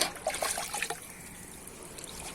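Water mixed with oil-cake fertilizer is poured onto potted garden plants, a brief close splashing trickle that quickly fades to a faint hiss, with no talk.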